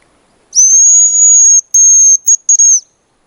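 A hazel grouse whistles in woodland during a hunt with a decoy call: one long, thin, high whistle, then a few short clipped notes close together, clear and fairly loud against silence.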